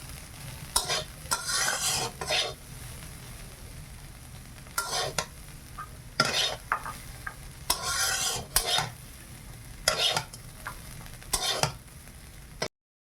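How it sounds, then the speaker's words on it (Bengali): Potatoes frying in hot oil in a village kitchen, with a spatula scraping and stirring the pan in repeated short bursts over a low, steady sizzle. "তেলটা গরম হয়ে গেছে, আমি আলুটা ভেজে নেব।"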